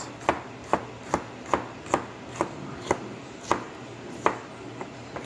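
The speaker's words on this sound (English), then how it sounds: "we got the jalapenos here. Nice thin slices." Jalapenos sliced thin with a knife on a cutting board, a dozen crisp, evenly spaced chopping taps close by, with no talking.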